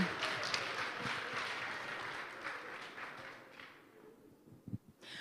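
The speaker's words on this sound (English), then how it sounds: "Round of applause for Scorpius Pharmacy Limited." Audience at a pitch-day event applauds for a pharmacy company, a sustained patter of many hands at moderate distance that fades out near the end, followed by a few thumps.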